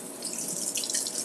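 Food is rinsed under a running kitchen tap, a steady close hiss of water splashing in the sink with no talking.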